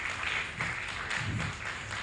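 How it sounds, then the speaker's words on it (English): An audience at a school quiz challenge event breaks into applause, a steady wash of clapping heard from a moderate distance at fairly low volume. "Please, a round of applause again. A round of applause to him."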